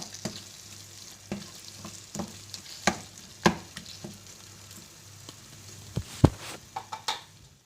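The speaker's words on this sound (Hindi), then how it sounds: "हम क्रीम को हल्के हाथ से चिकन के अंदर मिक्स कर देंगे।" Spoon stirring cream into chicken handi in a pot with the stove off, giving soft scraping strokes and occasional sharp clinks against the pot at an irregular pace, close and fairly quiet with no talk.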